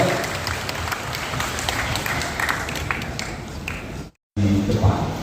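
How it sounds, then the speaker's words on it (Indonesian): Crowd applauding for Mas Wali, dense clapping across several seconds with talk mixed in, a brief cut to silence, then noise resuming loudly. "Tepuk tangan untuk Mas Wali"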